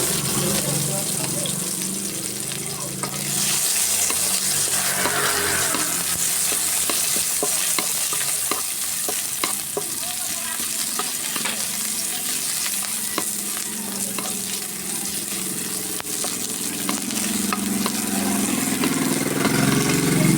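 Onions sautéing in hot oil for a fish miso dish: a loud, close, continuous sizzle with busy crackling and frequent stirring clatter that runs for the whole twenty seconds.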